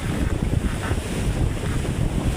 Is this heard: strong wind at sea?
yes